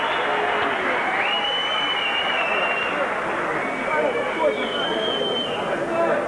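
Boxing crowd at a title fight between Jeff Harding and Dennis Andries gives steady, sustained applause and cheering, a dense continuous roar of clapping and voices with whistles rising over it.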